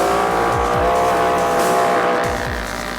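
Off-road race car pushed hard during the Mint 400 desert race, its engine roaring loudly and steadily with repeated rising gear-shift sweeps, close and continuous.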